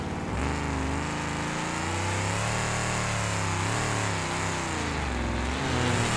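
A wrecked car with its rear axle shifted out of place and splayed wheels drives in BeamNG.drive, its engine droning steadily and loudly throughout, pitch wavering as the throttle rises and falls, with no voices.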